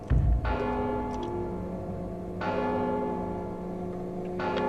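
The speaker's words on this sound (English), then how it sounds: "Don't you hear the bell?" A large church-style bell tolls in the stealth video game Mark of the Ninja, three resonant strikes spaced about two seconds apart, each ringing on with a long humming decay, heard alone.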